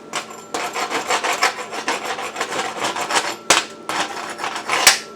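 Flux core welding with a cheap welder, a dense crackling, sizzling hiss that runs steadily for several seconds close by, with brief pauses and sharp pops near the end.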